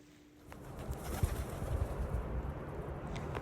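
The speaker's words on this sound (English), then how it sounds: "Pigeons." Pigeons cooing softly outdoors, low murmuring calls repeating over a steady background hum, with faint wing flutters and no talking.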